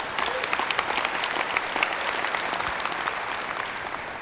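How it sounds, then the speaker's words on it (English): A large keynote audience at a public sector tech summit claps for sponsors, a broad, even roar of many hands sustained throughout at a steady, moderately loud level. "So let's have a round of applause for those great sponsors."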